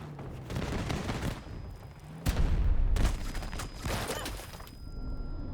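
30 mm cannon fire and explosions in Battlefield 2042: rumbling, booming blasts land in heavy waves, one sharp heavy impact midway, with continuous crackling fire beneath and no talk.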